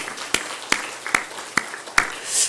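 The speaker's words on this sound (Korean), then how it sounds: "우리 찬양대원 위해서 크게 한 박수 한번 합시다" Five sparse, sharp claps from a church congregation during a worship service, spaced about half a second apart, fairly quiet, with a faint soft rush at the end.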